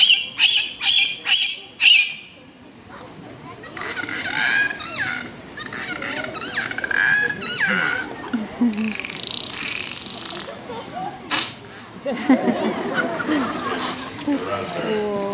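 Dolphins at an aquarium show in Vancouver give a string of clicks, whistles and squawking calls, some in quick bursts and others drawn out, with crowd noise beneath.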